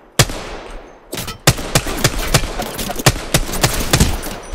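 Gunfire in Apex Legends, loud close single shots in a steady rapid sequence, each crack sharp and distinct against a noisy game background.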